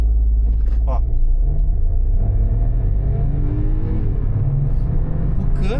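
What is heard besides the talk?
Hyundai HB20 2020 turbo hatchback accelerating from standstill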